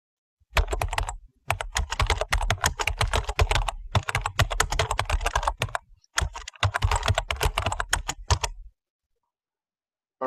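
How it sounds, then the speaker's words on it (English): Rapid typing on a computer keyboard, dense bursts of close key clicks broken by short pauses, loud and alone before falling silent near the end. "It's a sound of keyboard."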